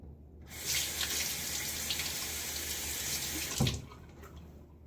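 A Gillette Silver Blue safety razor is rinsed under a running tap in a sink, a steady close rush of splashing water that starts abruptly and ends with a brief louder splash, with no talk.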